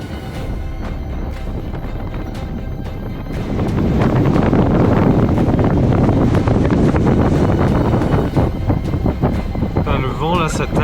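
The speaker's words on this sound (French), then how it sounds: "Le vent là, ça tabasse." Strong constant wind buffets the microphone on the Mgoun ridge at about 4000 m in Morocco's Atlas, a roaring gusty rush that grows louder after a few seconds, with someone speaking through it.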